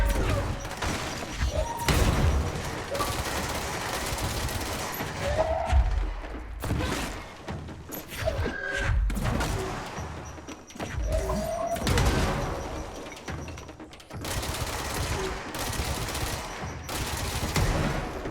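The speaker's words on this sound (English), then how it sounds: "Oh, I hear a grenade." A grenade explosion and gunfire in the shooter game Control. Bursts of rapid gunshots and heavy thuds come in repeated loud volleys separated by short pauses, with faint voices in between.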